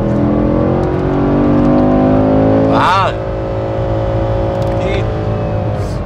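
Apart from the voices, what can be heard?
Chevrolet Camaro SS 6.2-liter engine revving on circuit straight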